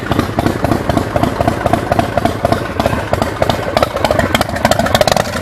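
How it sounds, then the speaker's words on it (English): A 2003 Iron Horse Slammer motorcycle with a 113-inch S&S engine and Big Gun exhaust idles loudly and close by, with a steady, throbbing, slightly uneven pulse throughout. "The idle's great. Got the big gun exhaust on it."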